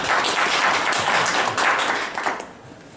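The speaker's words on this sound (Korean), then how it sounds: "박수 한번 부탁드립니다." Audience applause rises as a company CEO is welcomed at a gathering, a dense, steady wash of many hands clapping that thins and fades out near the end.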